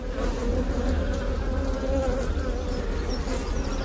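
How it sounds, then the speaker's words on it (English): Honey bees buzzing around an open beehive during a hive inspection, a steady dense hum from many insects close by, continuous and loud throughout with no talking. "I'll move the bees out of the way."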